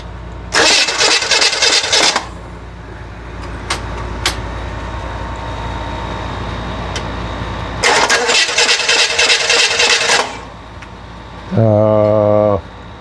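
A rebuilt Holden FC engine is cranked with the key in two loud bursts of starter whirring that stop without catching, followed by a short rising tonal whine, with quiet talk in between.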